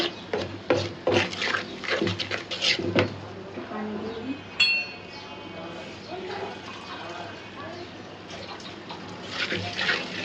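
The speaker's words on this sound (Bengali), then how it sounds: "পানি দিয়ে দিই সুন্দর করে মশলাটা কষা" Water is poured into a pan of frying ginger-garlic spice paste for a radish and prawn curry, splashing and running in bursts with clinks of utensils, while a person talks.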